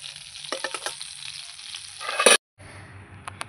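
Prawns fry in hot oil in a kadai, giving a steady close sizzle with a few brief stirring clatters, then a sudden cut and a quieter continued sizzle.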